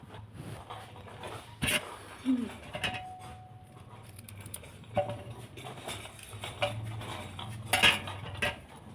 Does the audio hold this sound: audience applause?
no